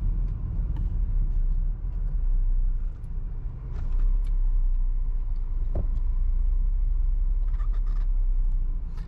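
Steady engine and road rumble inside a car cruising on a highway near Tulum, a continuous low drone with faint ticks and small dips in level, no talk.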